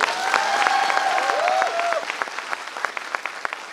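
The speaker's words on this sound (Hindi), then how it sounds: "एक बार उत्तम चेटिया सर के लिए जोरदार ताली आप बजाइए" Audience applause for a leader at a motivational business event, a burst of clapping that begins dense and then tapers to scattered individual claps, with faint whistle-like tones over the first half.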